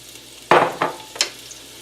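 Chopped onions hit hot oil in a pan for Italian chicken and rice, giving three quick bursts of sizzling and stirring close up, each fading fast, with no talk.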